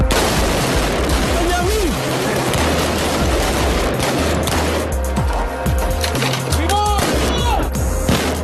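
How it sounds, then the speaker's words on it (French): Live-ammunition gunfire from Yassam police training on Yafo street in Jerusalem, dense volleys of shots and booms under a constant low rumble, with faint voices and radio-like tones mixed in. "Ici centrale de Jérusalem, nous vous signalons des tirs rue Yafo."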